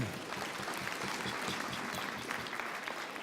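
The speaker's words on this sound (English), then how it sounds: "Give yourselves a clap." Audience applause at a closing keynote, steady dense clapping from a large crowd filling the room, even and sustained throughout without a break.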